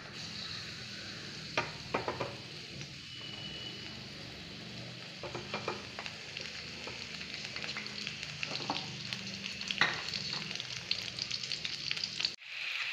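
Shallots, garlic and curry leaves sizzle steadily in hot coconut oil, a continuous frying hiss punctuated by occasional louder crackles and stirring clinks, with no voices.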